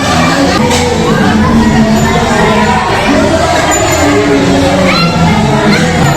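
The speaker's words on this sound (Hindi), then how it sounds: "कितना ज्यादा भीड़ है।" Dense crowd noise from a large gathering at a Hindu temple on Mahashtami: a continuous loud wash of many overlapping voices with children shouting and occasional cheers or whoops, steady throughout with no pauses.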